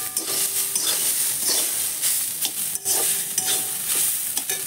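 Banana stem fries in a pan with a steady sizzle while a utensil scrapes and stirs in quick, repeated strokes close by, with no voices.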